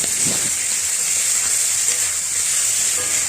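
Spice masala for a Bengali butter fish (pabda) curry, with Kashmiri chilli powder, fries in a pan with a steady, continuous sizzle and hiss, close and fairly loud, with no voices.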